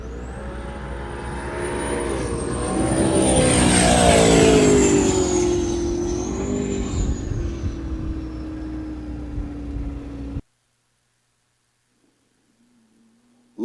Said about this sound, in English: Love watching that boat run.